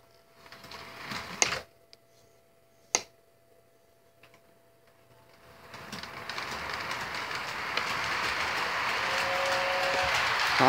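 A train starts with a few sharp clicks and knocks in near silence, then builds into a steadily rising, broad running roar.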